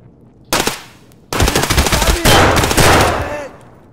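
Rapid automatic gunfire from the video game Raid rattles loudly in long bursts, a brief first volley followed by sustained firing, close and dominant with no talking.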